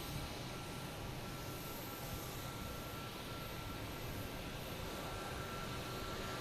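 Spirit Airlines jet arriving from Orlando and coming in to land at Boston Logan Airport, a faint, distant, steady engine rumble and whine held evenly throughout with no talking.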